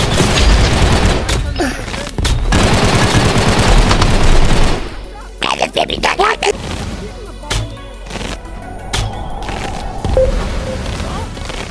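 Uzi submachine guns spray rapid automatic bursts in the shooter game Gun Raiders, with a dense, loud stream of fire at first that gives way to choppy, separated bursts and scattered shots.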